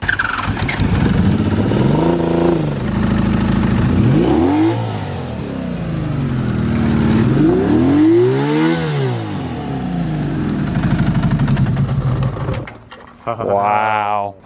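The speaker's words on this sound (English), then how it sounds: "This is the 6-cylinder bike, right? Yeah, 1050." A 1981 Honda CBX 1050 six-cylinder motorcycle engine revs up and down repeatedly with rising and falling howls, close by, with people talking excitedly over it and a sharper final rev at the end.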